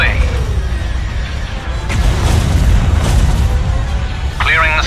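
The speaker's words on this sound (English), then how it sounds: "Rockets away." Rocket salvos fire in a Star Wars: Empire at War space battle with the Fall of the Republic mod: a steady roar of booming launches and blasts runs throughout, with a short electronic chirp near the end.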